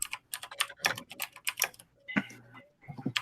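Quick, irregular clicking of fingers on a computer keyboard, close and fairly quiet, with bursts of keystrokes, a brief pause, then more tapping.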